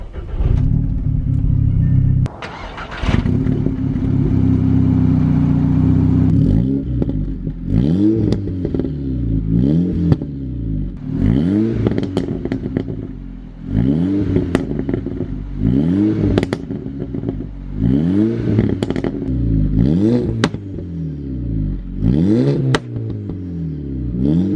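A modified VW Golf GTI making about 435 bhp starts up, then revs repeatedly with loud, rhythmic rises and falls punctuated by crackling pops and bangs, close and alone with no talk.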